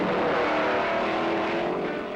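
A 1964-65 Ford Thunderbolt Fairlane drag racer roars hard off the line in a wheel stand, a loud, dense engine blare held steady for about two seconds and easing slightly at the end.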